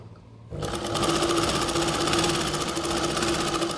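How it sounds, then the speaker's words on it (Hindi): Sewing machine stitching a buckram neck piece onto a kurti, starting abruptly after a quiet moment and then running as a loud, fast, steady mechanical whirr close by. "आपको यहाँ पे सिलाई लगा के बता रही हूँ, आप इस तरीके से भी यहाँ पे सिलाई लगा सकते हो, राउंड निकालते हुए।"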